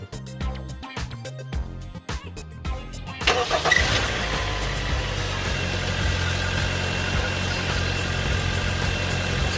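A car engine rumbles, starting after some clanking and then settling into a steady, close, loud idle, run after washing the engine bay so the water inside dries out.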